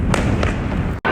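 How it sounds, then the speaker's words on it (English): Chinese New Year fireworks boom nearby, a few dull thumps in quick succession over a loud, rumbling outdoor background. "We've got some fireworks going off next to the hospital."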